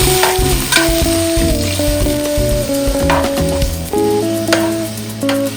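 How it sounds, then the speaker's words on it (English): Beef ribs for brown stew sizzle and fry in a pot, a steady close hiss running under loud melodic music throughout. "Cook your ribs down."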